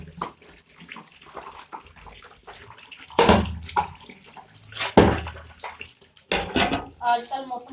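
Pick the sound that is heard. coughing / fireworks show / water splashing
water splashing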